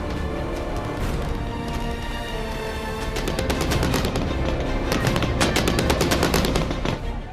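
Rapid bursts of Taliban gunfire in Afghanistan crackle over a dense, noisy background, growing louder and more continuous in the second half, like sustained automatic fire.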